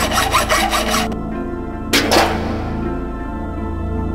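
A hand saw rasps back and forth in the game Blackstone Chronicles, several quick strokes, then a short pause, then one more burst of rough scraping, close and loud, with a lingering ambient hum.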